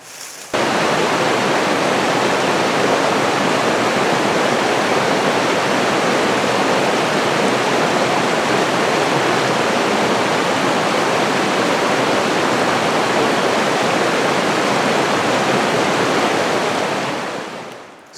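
A steady rush of flowing creek water in Georgia woodland, loud and unbroken, fills the whole stretch before fading out at the end.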